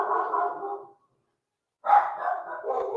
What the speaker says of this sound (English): My doggies, they love to bark.